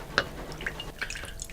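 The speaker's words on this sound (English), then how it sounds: "Pour myself a bit more of a drink" Liquid being poured into a glass indoors: a few soft, brief drips and trickles at close range, quiet and alone with no talking.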